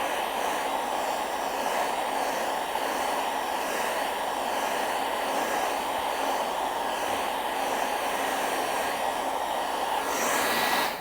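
A hair dryer blows on a freshly painted picture, giving a steady, close, continuous whooshing roar that holds at one level for about eleven seconds before cutting off at the very end, with no voices.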